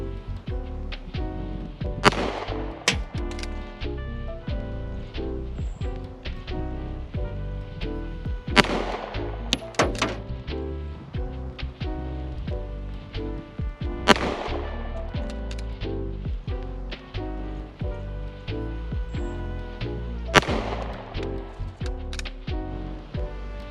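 Sig Sauer P226 9mm pistol fired outdoors in cold weather, four sharp, loud shots spaced several seconds apart over a continuous dense background.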